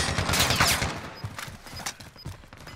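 Dense, rapid automatic gunfire and explosions in the video game Call of Duty: Modern Warfare, sustained bursts of crackling shots with no pauses and little talk.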